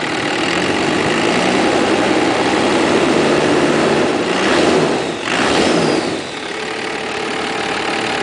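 A Dodge 2500 pickup's Cummins 12-valve diesel engine, an older truck with turbo, runs loud and close, idling with a steady rumble before being revved up and dropping back, with no talking over it.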